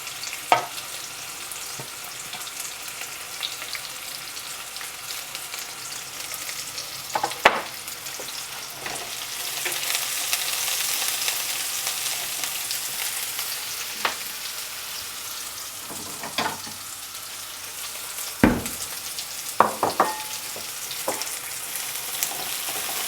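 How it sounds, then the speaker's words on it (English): Steady frying sizzle of onions in a hot pan for a pork stir fry, with occasional sharp scrapes and clinks of a utensil stirring, no voices. "Your pan starts to sizzle, you know it's hot enough."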